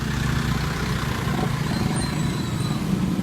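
Tricycle engine on a Philippine road, a steady low motor rumble with idling-like pulses running loud and close throughout, with no talk.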